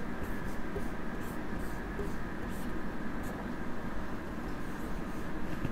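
Steady scratching of writing on a board during a lesson, a continuous close rubbing texture with a faint hiss underneath and no clear speech.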